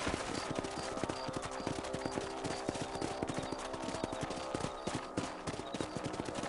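Horse hooves clip-clop steadily at a canter while riding in Red Dead Redemption 2, a dense repeating rhythm close up, with no talk over it.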